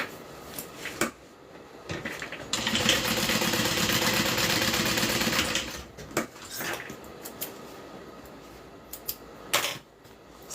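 A sewing machine runs a steady top stitch along a bag for about three and a half seconds, with light handling clicks and rustles before and after.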